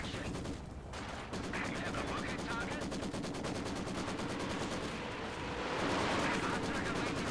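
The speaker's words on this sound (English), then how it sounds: "Werfer barrage coming in against the MG." Panzerwerfer rocket barrage in a Company of Heroes-style strategy game, a sustained rapid crackle of launches and impacts mixed with machine-gun fire, heavy and continuous throughout, growing slightly louder near the end, quiet overall under faint commentary.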